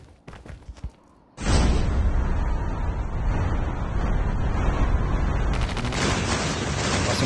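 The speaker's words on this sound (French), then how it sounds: "ça me tire déjà dessus" Gunfire in the Call of Duty Mobile battle royale game: a few sharp shots at first, then a dense, sustained loud burst of rapid firing lasting several seconds, with no talk over it.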